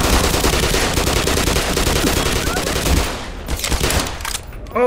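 Rapid automatic gunfire in Black Mesa, dense loud bursts of shots in quick succession that thin out into scattered shots near the end, with a voice briefly heard.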